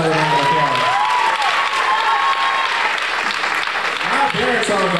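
A crowd gives sustained, loud applause at a school winter choir concert, steady dense clapping from start to finish while someone speaks over it.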